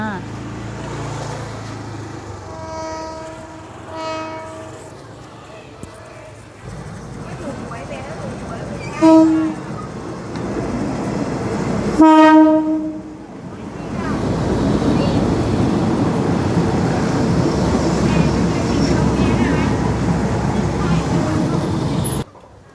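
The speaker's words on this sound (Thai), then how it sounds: "รถไฟมา" Harmonic honks from a horn, then a loud rushing rumble builds and holds as a train passes nearby along a trackside market in Wongwian Yai, Bangkok, with voices talking at the start.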